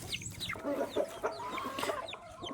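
Hens cluck as they come to be fed at a duckweed pond in the evening. Short, repeated, fairly close calls sound in an uneven, chattering rhythm throughout.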